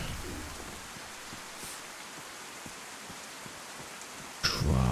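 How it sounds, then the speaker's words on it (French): Steady rain falls in the survival video game DayZ, a continuous hiss of raindrops with faint scattered patters, fairly quiet, ending with a brief louder thud. "Je vois strictement rien avec la pluie."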